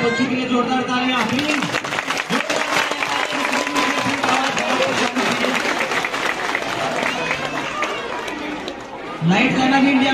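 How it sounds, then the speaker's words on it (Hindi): An audience at a school annual function claps loudly for the children, a dense, sustained burst of applause with crowd noise mixed in, then it breaks off near the end as a voice returns over a microphone. "हमारे बच्चों के लिए जोरदार तालियां"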